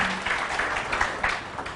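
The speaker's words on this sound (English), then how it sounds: "A round of applause for him." Steady applause from a summit audience welcoming the Consul General of Turkey to the stage, a brief, even wash of clapping heard alone.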